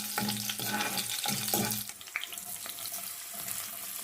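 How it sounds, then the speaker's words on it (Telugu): Pieces of dried red chilli crackle loudly in hot tempering oil as they are stirred, a dense, continuous sizzle close up, broken by a few clinks of a spoon against the pan. "అది కొంచెం వేగిన తర్వాత ఒక ఎండుమిర్చిని ముక్కలుగా చేసుకొని వేసుకోవాలి."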